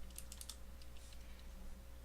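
Quiet bursts of clicky keystrokes on a computer keyboard during a Unity beginner tutorial, a quick cluster of taps followed by a few scattered presses over a faint steady hum, with no talking.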